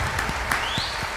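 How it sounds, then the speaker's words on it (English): Brief burst of audience applause at a live comedy-style stage show welcoming a playwright, a short dense patter of clapping with a couple of voices over it. "Let's give a round of applause."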